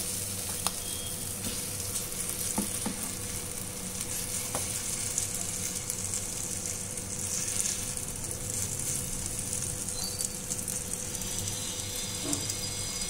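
Sprouts chilla batter sizzles steadily on a hot, lightly oiled pan, a close continuous frying hiss with faint scraping stirs now and then, with no voices.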